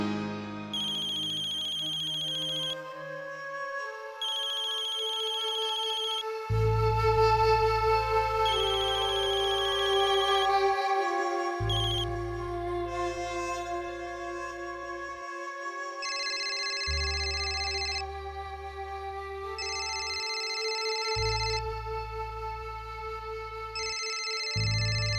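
A phone ringtone plays on and off during an outgoing call in a Hindi TV drama, a melodic electronic tune repeating in phrases over about twenty-five seconds, clear and close, with no talk.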